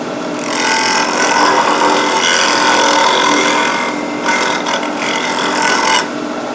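A safety planer spinning in a drill press and planing wood makes a loud, continuous whirring and grinding drone that holds steady for several seconds before easing off briefly near the end.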